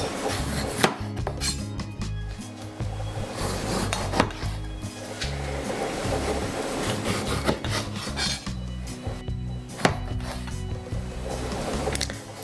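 A knife chops and scrapes tomatoes on a chopping board to remove the seeds, making repeated close taps and rasping strokes in an uneven rhythm, with no talking.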